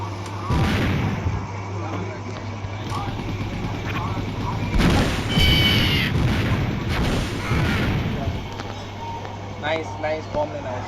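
A bomb goes off in a competitive tournament shooter game, booming explosions and gunfire bursts layered over excited players talking, with a loud swell of blasts midway through.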